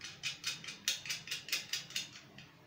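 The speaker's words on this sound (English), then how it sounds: "Use another one, the short bolt. Tighten it up." A bolt is tightened during assembly of a DStv satellite dish, making a faint, evenly spaced series of about a dozen metallic clicks heard alone.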